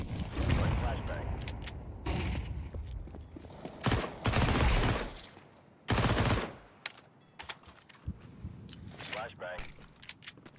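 A flashbang grenade and gunfire in Counter-Strike 2, with bursts of loud shots and sharp blasts scattered irregularly among quieter stretches, fairly close.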